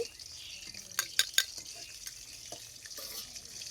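Spoon stirring through bubbling chutney sauce in a pan, with a few sharp metallic scrapes and clinks over a steady low simmer.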